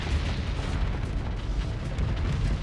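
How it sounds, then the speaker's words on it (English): Fast torpedoes detonating at point blank range in the space combat game Starsector, a continuous, heavy rumbling roar of overlapping explosions with steady loudness throughout. "Fast torpedoes, point blank range."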